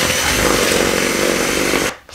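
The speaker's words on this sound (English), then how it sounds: "And then we mix again." An electric mixer beating cake batter after vanilla and an egg go in, a loud, steady, close motor whir that holds for about two seconds, then cuts off abruptly.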